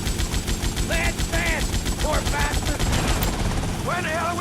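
Rapid bursts of gunfire crackle continuously through a busy GTA Vice City soundscape, with chirpy electronic tones and effects layered over the steady shooting.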